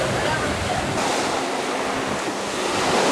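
Ocean waves surge and wash steadily through a lava cave at Waianapanapa State Park on Maui, a loud continuous roar with wind buffeting the microphone.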